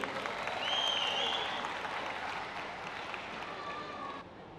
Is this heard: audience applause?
yes